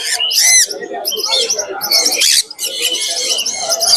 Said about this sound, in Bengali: এটা কি পাখি ভাই ক্রিমসন রেড বেলি